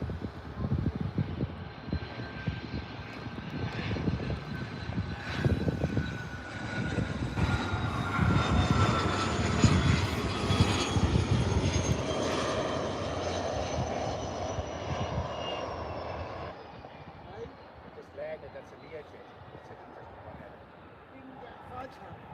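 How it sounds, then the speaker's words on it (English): A jet airliner on approach to land at Birmingham airport passes with a steady, rising and fading engine roar that swells to its loudest midway, with people talking nearby throughout. "Always looks like these jets are coming in rapid."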